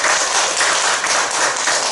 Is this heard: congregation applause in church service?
yes